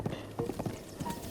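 Wild horses' hooves clop on the ground in Zelda: Breath of the Wild, several quick, fairly faint hoof beats in an uneven gallop rhythm.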